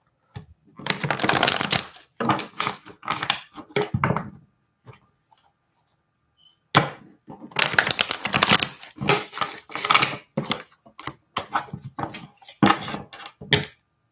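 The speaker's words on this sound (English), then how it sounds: "I need to shuffle. Yeah, Spirit says shuffle." Tarot cards being shuffled by hand in repeated bursts of crisp riffling and flicking, with a short pause midway before another run of shuffles, close and fairly loud with no talking.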